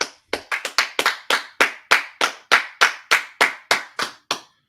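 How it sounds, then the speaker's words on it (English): A small group claps in a slow, even rhythm at a gathering, about fifteen sharp, close hand claps spaced evenly, with no talking in between. "All right, clap it up, clap it up."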